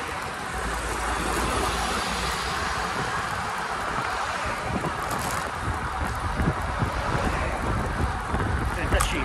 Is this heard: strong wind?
yes